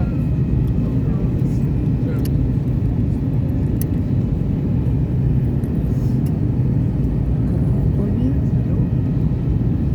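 A passenger airplane lands in Kraków, heard from inside the cabin as a loud, steady low engine and air roar that holds evenly throughout.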